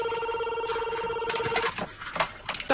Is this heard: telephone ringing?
yes